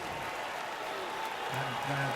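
College football blackout crowd in a stadium during the Indiana Hoosiers versus Western Kentucky Hilltoppers game, a dense, steady roar of cheering spread wide across the venue, with a commentator's voice faintly over it.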